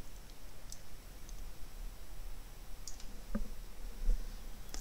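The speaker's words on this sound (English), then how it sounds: "I'll click OK." A few faint computer mouse clicks, scattered single ticks over a quiet background hum.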